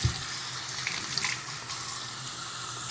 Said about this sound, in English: So let's get the water going here.